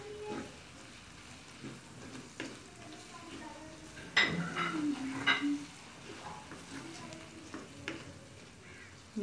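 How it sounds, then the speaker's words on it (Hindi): Ginger garlic paste and salt being stirred with potatoes in a pan, giving a steady background sizzle broken by clattering spoon-on-pan scrapes and knocks. The loudest bursts come around the middle, and no one speaks. "अब डालूंगी इसमें अदरक लहसुन का पेस्ट और साथ ही जाएगा नमक। 1 मिनट भूनूंगी इसे खुशबू आने तक।"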